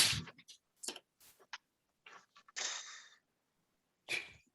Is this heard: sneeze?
yes